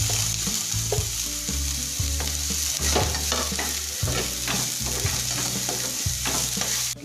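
Chopped capsicum and onions sizzle and fry in a pan while a utensil stirs and scrapes in repeated strokes, close and steady with no talking.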